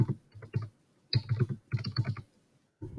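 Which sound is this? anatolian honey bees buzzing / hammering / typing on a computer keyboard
typing on a computer keyboard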